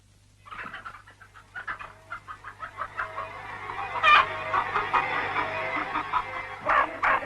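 Hens cluck repeatedly in short, rhythmic bursts close by, with a steady low hum running underneath.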